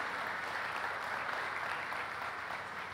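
Audience applause at a farm-yield awards ceremony, a dense steady wash of clapping that holds evenly throughout at moderate loudness, with no voices over it.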